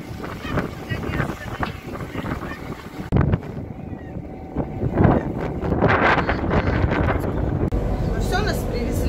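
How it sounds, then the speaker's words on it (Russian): Strong wind buffeting a microphone on Lake Baikal's Olkhon Island near Khuzhir, a constant loud roaring rumble, with a voice speaking underneath. "Ветрище, конечно, такое, что ничего не слышно."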